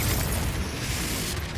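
A Confringo spell explosion in the video game Hogwarts Legacy gives a dense, loud rumbling blast with a deep low-end boom that fills the whole short moment without pause.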